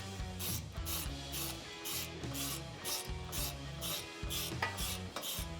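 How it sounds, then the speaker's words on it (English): A ratchet with an extended 4mm Allen socket tightens rivet nut bolts during a Barricade HD flat fender flare install on a Jeep Wrangler JK, giving steady rhythmic bursts of rapid pawl clicking, close and distinct, repeating back and forth with no speech. "we can start to tighten up the rib nut bolts with a 4mm Allen socket"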